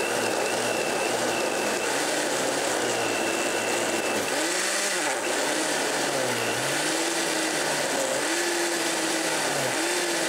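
A blender chopping sauce ingredients whirs loudly and continuously, its motor pitch dipping and rising as the blades catch chunks. A voice briefly speaks.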